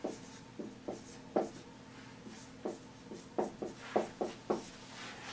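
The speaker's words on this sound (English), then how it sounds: "I'm going to go ahead and write it down." A pen scratching on paper while a chemistry problem about methane gas is written down, with a steady run of short, quiet strokes and taps close by.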